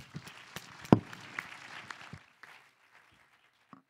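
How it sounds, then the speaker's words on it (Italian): Faint, thin applause from a small audience at a container shipping business meeting, scattered claps trailing off after about two seconds into near silence, with one last soft clap. "Un applauso a voi."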